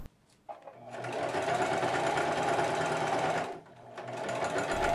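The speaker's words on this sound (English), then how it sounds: "I can't believe I got the sewing machine working with this thread the first time" Sewing machine stitching thick upholstery thread runs in two bursts, a long steady whirring rattle of about three seconds, a short pause, then it starts again, close and clear with no talking.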